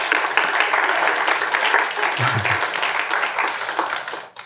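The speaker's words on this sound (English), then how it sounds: "A round of applause, please." A seminar audience applauds a presentation on Southeast Asia aid, brisk close clapping sustained for several seconds with a brief low thump partway through, then tapering off.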